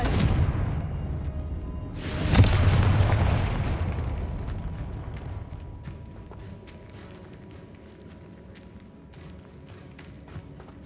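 Confringo fire spell in Hogwarts Legacy, a rumbling game explosion that bursts loudly after a couple of seconds over ongoing battle noise, then slowly fades into a long low tail.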